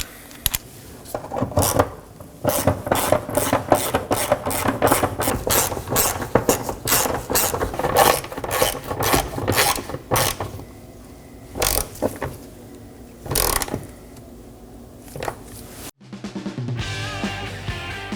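Three 10mm nuts being snugged down on the vapor canister purge solenoid valve of a 2018-2024 Chevrolet Equinox, a dense run of rapid ratchet clicks in quick bursts, then a few slower clicks and a brief pause, close and alone.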